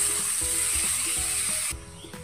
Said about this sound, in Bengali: চালটা ঘিয়ের মধ্যে দিয়ে একটু ভেজে নেব।